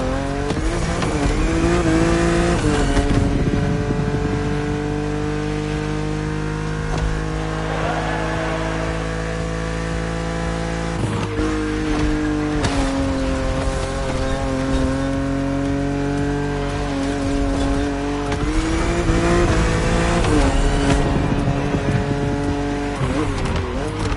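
A BMW Z4 roadster races in The Crew Motorfest, its engine a continuous loud whine that rises and drops with gear changes and throttle, with no talking over it.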